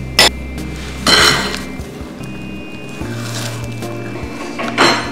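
Chopped nuts and raisins folded into poppy seed cake batter with a spatula in a bowl, giving intermittent clinks and scrapes against the bowl, with a couple of louder knocks and no talking.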